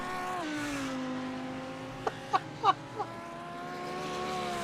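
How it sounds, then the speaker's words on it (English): A race car engine at Le Mans in a racing simulator game holds a steady tonal whine that drops after a shift, with several short sharp bursts in the middle, moderately quiet. "Can I hear you over the sound of this beautiful car?"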